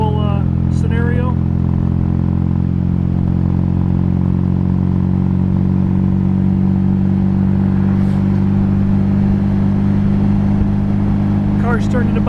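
A 1962 MGA 1600 Mk II's engine drones steadily and loudly from inside the car as it drives on a cold day, with a deep, even hum throughout and brief faint voice-like sounds over it.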